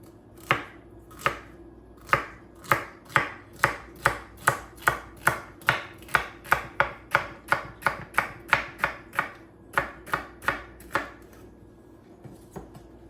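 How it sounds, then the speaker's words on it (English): A stalk of celery chopped with a knife on a cutting board, about twenty-five crisp, evenly spaced thuds at a brisk steady rhythm, close and clear, slowing slightly toward the end. "Next, we will chop 1 stalk of celery."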